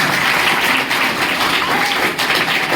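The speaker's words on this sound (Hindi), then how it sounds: "एक बार सचिव महोदय के लिए जोरदार ताली हो जाए" A crowd at a village middle school farewell and honor ceremony gives loud, dense, continuous applause for the secretary, sustained and even without a break.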